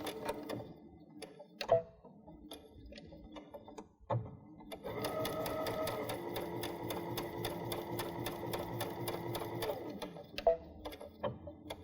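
Stitching straight across a strip on a drawstring backpack, a sewing machine whirs steadily for about five seconds, with a few separate clicks and knocks from handling before and after the run.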